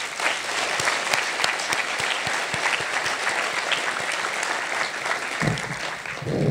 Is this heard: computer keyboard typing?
no